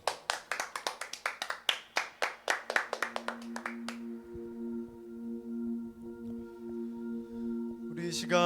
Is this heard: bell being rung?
no